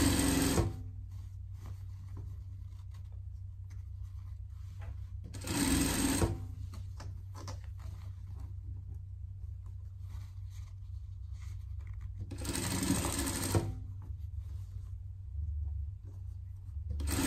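A sewing machine runs through a denim pet vest joined with cotton poplin, a low steady motor hum broken by three louder stitching bursts.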